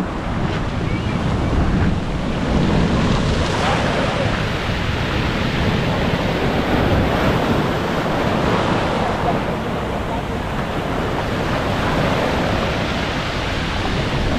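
Strong ocean surf crashes continuously at the shore of a Philippine coastal village in the early amihan monsoon season, with heavy wind buffeting the microphone throughout, a dense, loud roar with no pauses.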